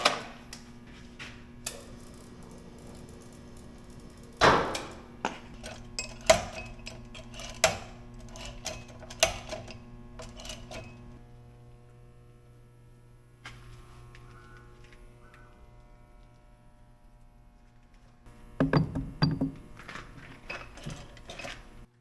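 A metal lathe is being set up and a part for a large excavator bucket pin boss is chucked, bringing a series of metallic clanks and taps over a steady machine hum, followed by a quiet stretch and another cluster of knocks near the end.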